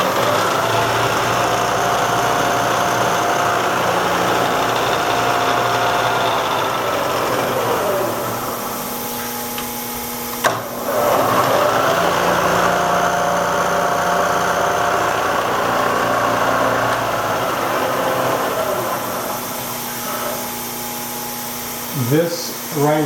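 Bridgeport J-head milling machine, 9 by 48 inch table, running steadily with a loud motor whine, switched briefly around midway between forward and reverse, then continuing; no voices over it.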